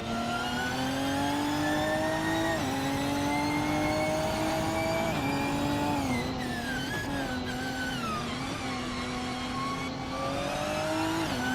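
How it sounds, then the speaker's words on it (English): Racing-game engine of a 2007 Peugeot 407 in a race, a steady mid-pitched drone that climbs through the revs, briefly dips at shifts and rises again, loud and continuous with no talk. "Bot Sofik is driving a 2007 Peugeot 407, which is more known for comfort than raw speed"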